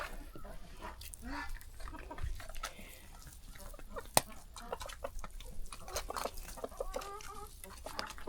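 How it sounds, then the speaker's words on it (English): Backyard chickens cluck and squawk close by in a busy, overlapping chorus with scattered sharp calls and rustling throughout. "Hey, chicken. Move. They're not listening."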